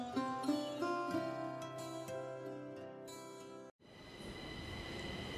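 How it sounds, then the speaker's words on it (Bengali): A Delhi Mail train sound effect: a sustained, horn-like tonal blare for nearly four seconds, a brief gap, then steady rolling rumble and rattle of the running train, with no talk. "ঝটাং ঝট ঝটাং ঝট দিল্লি মেল ছুটছে"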